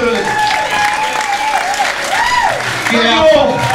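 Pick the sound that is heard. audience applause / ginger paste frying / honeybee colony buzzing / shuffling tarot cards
audience applause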